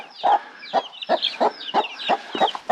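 Village chickens in a Sinop mountain hamlet squabble with a rapid run of about eight sharp, close clucks and squawks in a steady rhythm.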